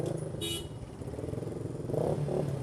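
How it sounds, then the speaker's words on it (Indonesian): Motorcycle exhaust fitted with a dB killer insert, a deep, steady rumble idling or revving close by for a few seconds, with a brief higher rasp near the start and a swell toward the end. "Karena dengan DB Killer aja suaranya udah kayak gini nih."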